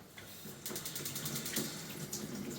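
Water flowing through a Junkers natural-draft gas water heater, a steady broadband rush that starts abruptly and keeps running, fairly close, with no talk over it.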